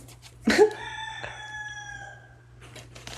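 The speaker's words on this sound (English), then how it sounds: "Chicken." A rooster crows once, loud and fairly close, with a long drawn-out call that tails off over about two seconds, followed by quiet background hum.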